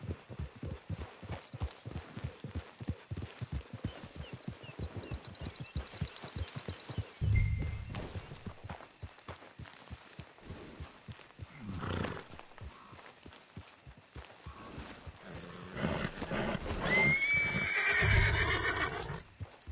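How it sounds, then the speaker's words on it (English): In a PS4 video game, a horse's hooves clip-clop in an even, rapid rhythm at a modest level, then slow down and stop. A whinny and snorts follow near the end. "It's your horse."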